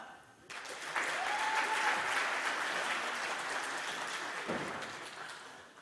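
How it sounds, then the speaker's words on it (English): Students at an orientation day applaud themselves, a sustained wash of clapping from a crowd that starts abruptly and holds steady, fairly loud and unbroken by talk. "So give a massive applause to yourself."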